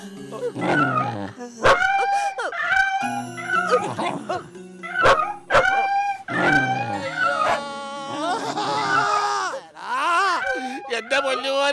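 In a Malayalam TV drama, a person imitates a dog with loud, close barks, yips, whimpers and howl-like wails in irregular bursts, mixed with bits of speech.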